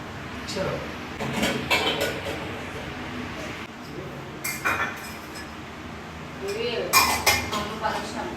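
Clattering pots and pans with metallic clinks, set down in a few bursts at close range while a person talks in between.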